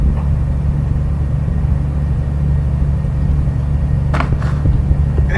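Road traffic outside a window makes a loud, continuous low rumble of passing vehicles, with a couple of brief higher clatters near the end.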